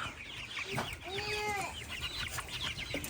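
Broiler chickens cluck and chirp together in a barn, a busy overlapping chorus of short calls close by with a few longer squawks, over a low steady background hum.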